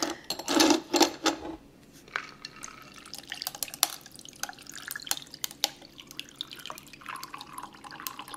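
Carrot, apple and celery agua fresca is poured from a small pitcher, starting with a brief splashing pour, then continuing with scattered drips and light liquid trickles close by.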